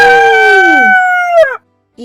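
A voice imitates a rooster's crow, a long rising-and-falling call that breaks off abruptly, followed by the start of another short vocal sound.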